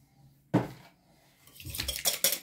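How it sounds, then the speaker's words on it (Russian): A single egg being beaten with a little sugar in a bowl: a sharp clatter of utensil against the bowl, a brief pause, then a quickening run of close, bright scraping and tapping strokes. "Добавляем 10 грамм сахара и взбиваем"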